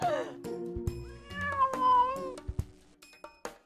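A cat meows loudly and repeatedly, with drawn-out wavering cries broken by short thumps and clicks, close and prominent with no talk over it.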